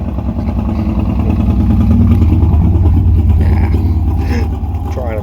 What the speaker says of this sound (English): Right by your noisy motorcycle.